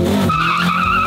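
A McLaren race car launches on a clutch drop, its tires skidding in a loud, close, harsh screech that rises over the engine for about a second.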